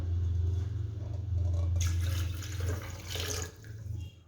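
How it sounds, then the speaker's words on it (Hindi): Water pours steadily into a blender jar already holding almonds, dates, sugar and milk for an iftar energy drink, a continuous close splashing stream with a low rumble, alone without voices. "और साथ ही पानी ऐड करेंगे।"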